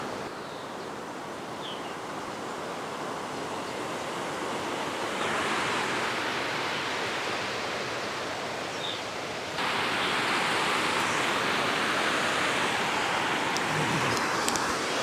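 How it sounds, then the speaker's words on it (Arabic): A waterfall in an old silver mine in Saxony, Germany, pours with a steady, broadband rushing roar that grows louder in steps as it is approached, with no speech over it. "أمام مني في شلال."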